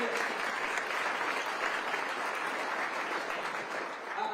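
An audience at an evening political gathering with a senator applauds steadily, a dense, even wash of clapping that holds for several seconds and eases slightly at the end.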